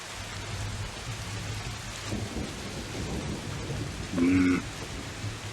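Steady rain ambience with low rumbling thunder in an online tabletop RPG session, a constant wash of rainfall throughout and a louder thunder roll swelling near the end.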